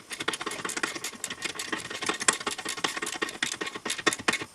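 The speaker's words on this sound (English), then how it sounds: "I'm going to go ahead and retighten the bolt on the back side of the strut." A tool works on a BMW E46 front strut bolt in a fast, even ratcheting rattle, close and continuous throughout.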